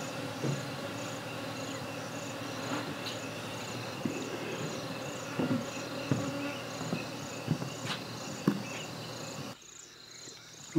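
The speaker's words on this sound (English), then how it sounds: "There's a lot of bees here." Dense insect buzzing from many bees swarming in a rainforest, a steady close drone with scattered louder passes near the microphone, dropping away abruptly near the end.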